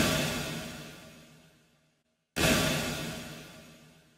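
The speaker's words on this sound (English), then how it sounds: "And this is the sound of my late reflections generator." Synthetic late-reflection reverb tail from the MTurboReverb plugin, a broad diffuse wash that decays smoothly to silence, then a second identical burst swells back in and fades again, with no voices.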